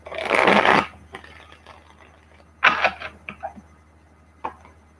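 Tarot cards are shuffled by hand in a long riffling burst, followed by a few shorter shuffles and sharp card snaps against a quiet background.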